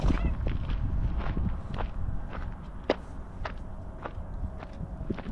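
Footsteps walking through desert scrub at midday, a steady series of soft crunching steps fairly close, with strong wind blowing throughout.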